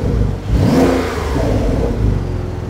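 Porsche 911 Type 992 Turbo S Cabriolet, a used car with 650 horsepower, accelerating in Sport Plus mode, a loud, close engine surge rising in pitch with a deep rumble, heard alone.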